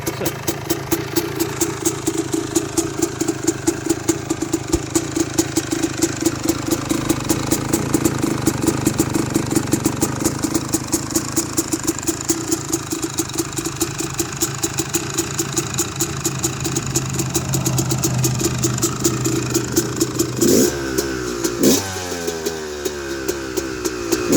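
A 2001 Yamaha YZ250 two-stroke dirt bike engine holds a steady, close idle with a rapid ringing putter, then blips sharply near the end and settles back down. No one speaks.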